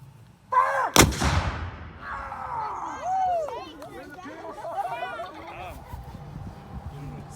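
A Civil War reenactment field battery fires a cannon, one sharp loud boom that echoes and fades into crowd chatter and voices murmuring in the outdoor audience afterward.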